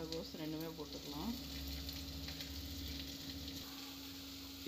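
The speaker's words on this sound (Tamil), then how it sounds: "காய் நல்லா வதங்கட்டும்" Carrot and cabbage sizzle and hiss steadily in a hot pan for veg momos, with a low background hum and a few brief tonal blips over the frying.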